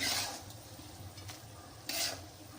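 Cooked rice being stirred and mixed with chitranna gojju paste for capsicum lemon rice, a soft scraping and stirring with a faint sizzle, with two louder scrapes near the start and near the end, close by and without talk.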